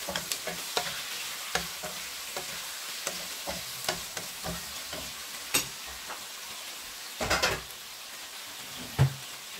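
Bihon rice noodles seasoned with curry powder and coriander powder, stir-fried in a pan: a soft continuous sizzle broken by repeated scraping and tossing strokes of a utensil, close and fairly quiet, no voices.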